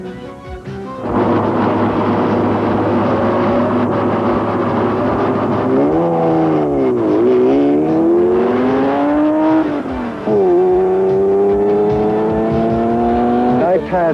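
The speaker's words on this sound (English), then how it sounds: "Robert Dalrymple from Los Angeles, California, drives a stock '84 Porsche Carrera." A stock 1984 Porsche 911 Carrera races at high speed on an open road, its engine note rising and falling through shifts and swelling revs, loud and close throughout.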